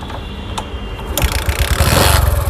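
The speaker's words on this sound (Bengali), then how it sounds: "দেখেন বিহার গাড়িটি স্টার্ট দেওয়া হয়েছে দেখেন ইঞ্জিনের সাউন্ডটা" A used motorcycle with about 19,700 km on it is kicked into life: quiet clicks first, then the engine catches and settles into a close, rapid, throbbing exhaust putter that grows louder.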